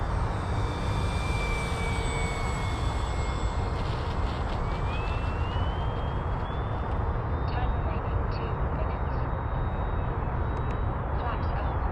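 FMS 1400mm F4U Corsair RC plane flying overhead with the throttle eased back, a steady broadband engine and prop drone with a faint whine gliding upward in pitch, continuous and fairly distant, carried over wind noise.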